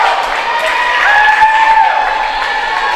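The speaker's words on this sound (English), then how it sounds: "You can hear the crowd." A college women's volleyball crowd in a gym cheers and roars steadily and loudly after a big block, with whistles and shouts mixed into the sustained noise.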